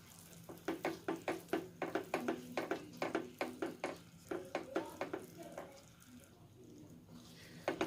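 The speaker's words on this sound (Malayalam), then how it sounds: "നല്ലപോലെ ഒന്ന് മിക്സ് ആക്കി കൊടുക്കാം." Two tablespoons of butter are mixed in a bowl for a caramel ghee cake, with quick, rhythmic close strokes repeating about twenty times before slowing and fading near the end.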